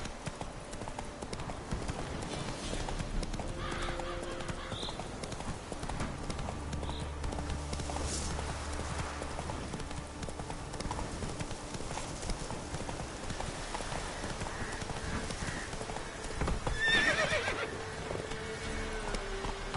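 The horse Roach in The Witcher 3 gallops with steady, rhythmic hoof clip-clops and lets out a couple of neighs, moderately quiet and continuous with no talking.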